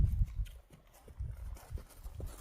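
A horse's hooves thud softly and irregularly on the ground as it is worked in a small circle without a lunge line. The footfalls are fairly faint and close, with low rumbling between them.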